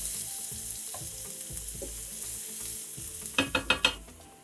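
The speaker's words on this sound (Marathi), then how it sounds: "त्यात जाईल एक बारीक कापलेला कांदा. कांदा गुलाबी होईपर्यंत 1 ते 2 मिनिटं परतून घेऊया." Finely chopped onion sautés in a pan with ginger-garlic-green chili paste, giving a steady frying hiss, then a quick run of four sharp spatula scrapes and clacks near the end.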